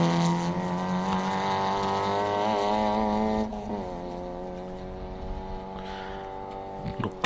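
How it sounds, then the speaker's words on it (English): A 1300cc Toyota Vitz rally car with a close-ratio gearbox powers downhill on a Canterbury gravel stage, its engine note holding a loud, strained rev before shifting down and rising again, steady and dominant throughout. "He'll be using every single one of those 1300cc's as he powers the little Vitz down the hill."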